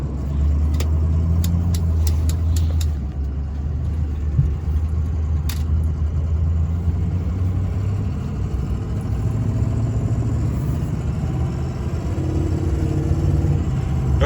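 A Ford 6.0 Powerstroke diesel truck engine idles steadily at close range, a deep continuous rumble with a faint high turbo whistle riding above it and a few brief metallic clicks.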